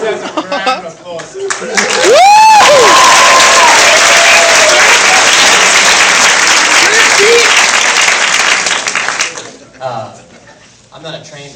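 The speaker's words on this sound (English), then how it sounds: "So that deserves a round of applause." Audience at a midnight Q&A screening in a cinema breaks into loud, sustained applause that swells after a couple of seconds and runs about seven seconds before fading, with a few whoops and voices mixed in.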